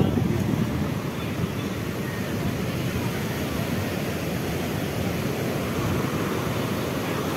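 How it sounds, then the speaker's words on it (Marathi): Big ocean waves at Candolim beach in Goa roll as a continuous broadband roar of surf, steady and fairly loud, with no distinct individual breaks. "इथं लाटा खूप मोठ्या येतात, बघू शकता तुम्ही"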